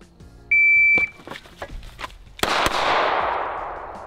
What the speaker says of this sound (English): So that was still two shots in over 2 seconds.